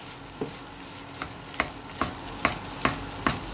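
Rice for pork fried rice stir-fries in a hot pan, with a steady sizzle and regular scraping strokes of a spatula about every half second, growing slightly louder, close and without talk.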